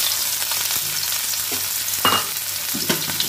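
Chopped onion with black cumin and dried chilli frying in oil in a pan for an eggplant poppy-seed dish, a soft steady sizzle broken by a few stirring scrapes and clinks, no talk.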